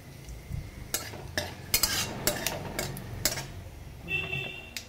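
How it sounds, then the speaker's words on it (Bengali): Cumin seeds and dried chillies sizzling in hot oil for a dal tempering, a steady frying crackle with sharp clinks of a spoon or utensil against the pan throughout. "জিরে শুকনো লঙ্কা ফোড়ন দিয়ে দিলাম, ডালে দেবো"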